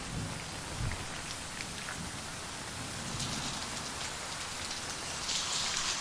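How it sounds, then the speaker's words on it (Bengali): Heavy evening downpour at a hill resort in Agamlok, East Sikkim, with a dense constant hiss of rain on surfaces, scattered drips and a low thunder rumble rolling underneath, no voices. "বাইরে শুরু হয়ে গেল মুষলধারে বৃষ্টি, আকাশের কোণে বাজ পড়া আর আলোর ঝলকানি"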